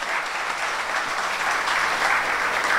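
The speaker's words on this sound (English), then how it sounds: "Now you may applaud." Steady, dense applause from a large audience at a youth scouting awards ceremony held in a city hall, continuous and fairly loud throughout with no talking over it.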